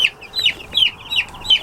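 A chick in a brooder gives five quick, high, rhythmic peeping cheeps, evenly spaced and close, with no talking.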